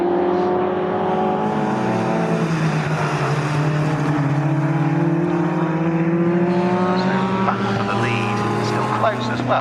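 Racing cars at Snetterton circuit during a CSCC Magnificent Sevens Series race, engines droning and revving in rising and falling pitch, fairly close, under continuous race commentary.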